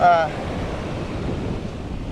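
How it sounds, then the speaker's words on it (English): Strong seaside wind buffets the microphone in a steady low roar, with surf-like rushing noise throughout and a brief tonal whine at the very start. "it's a really windy day."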